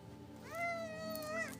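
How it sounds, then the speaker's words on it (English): A single drawn-out cat meow, close and clear, rising then holding before trailing off, with a low murmur of room noise underneath. "This is the kitty meow."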